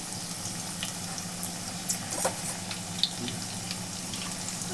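Suji aloo tikki shallow-frying in a pan, a steady close sizzle of hot oil with small pops and crackles scattered over it, no voices.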